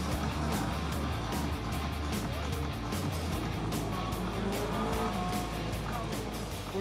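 Cars tackling a technical timed slalom course in the last event of the season, engines roaring loudly and continuously with occasional tyre squeal, passing close under a steady wash of crowd and ambient noise.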